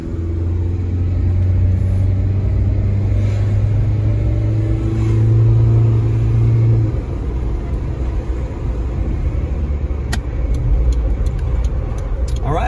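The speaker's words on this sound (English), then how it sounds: "you can hear the motor rev" A Suzuki Sidekick JLX 4x4 with 90k miles, driving up a street: steady low engine drone that holds and rises for several seconds, then drops off to a rougher rumble with some ticking near the end.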